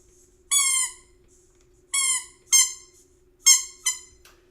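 A squeaky blue rubber dog toy is squeezed to mimic a bird call for beach foley, five bright, raspy squeaks in uneven bursts, the second pair closely spaced, over a faint steady hum.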